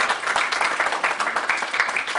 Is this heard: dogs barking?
no